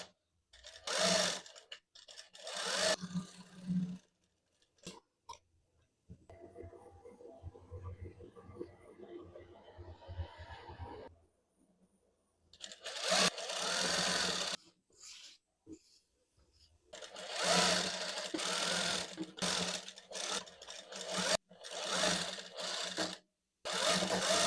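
A sewing machine stitches a kameez in several loud bursts of rapid mechanical whirring, separated by pauses and a quieter stretch of softer handling noise.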